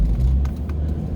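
Car driving onto Hana Highway in Maui, a steady loud low rumble of engine and road noise from inside the vehicle, continuous and without speech.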